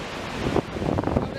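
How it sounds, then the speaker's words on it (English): Strong wind roars steadily into the microphone on a sandy shoreline by the water, a dense, buffeting rush with gusty swells and faint surf underneath, and no clear talk. "It's super windy."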